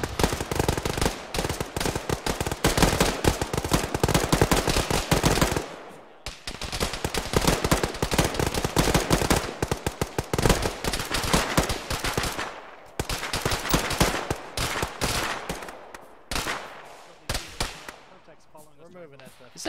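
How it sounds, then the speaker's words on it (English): Submachine gun fire in the Arma 3 military game: long, loud bursts of rapid automatic shots packed close together, broken by a few short pauses, with voices talking over the shooting. "Oh, it's a submachine gun, duh."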